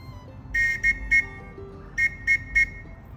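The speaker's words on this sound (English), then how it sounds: "When you see the chung chuk, blow the whistle as such." Whistle blown at a camp to signal a group formation: three short shrill blasts, a pause, then three more, loud and close.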